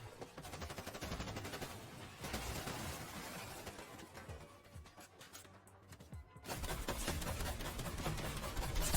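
Rapid, dense AR rifle fire in a competitive shooter video game: sustained automatic bursts that briefly thin out, then resume loud and continuous.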